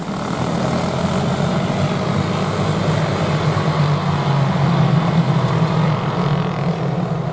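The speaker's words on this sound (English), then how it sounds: "red light on, engine note rises, and they're off" Race engines at the start of a Camberley FP4K race form a loud, dense, continuous droning roar that holds fairly steady throughout, with no talking.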